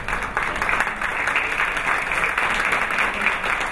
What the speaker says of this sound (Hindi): मैं आपकी पुरजोर तालियों में वेलकम करता हूं मैम शुमाइला अहमद को,